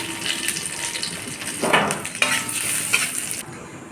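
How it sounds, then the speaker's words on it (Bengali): Cumin seeds and a bay leaf hit hot oil in a home kitchen: a close, steady sizzling hiss with a few metallic utensil clinks and stirring scrapes. "এবার একই তেলের ওপর আমি জিরে ফোড়ন দিয়ে দেব"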